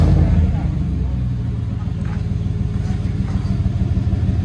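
Inside the cabin of a Chevy Tahoe with a 5.3L V8 and Dynomax Race Bullet exhaust, a low, steady engine rumble drones throughout, slightly louder at the start.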